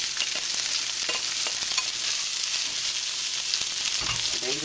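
Rice frying in grapeseed oil in a hot wok, a loud continuous sizzle with scattered pops and scraping stir noises close up, no talk.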